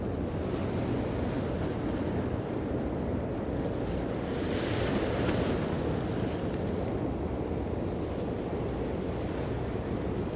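Water splashing and surf along the Brooklyn waterfront at sunset, a steady wash of waves mixed with wind buffeting the microphone, continuous and fairly close throughout.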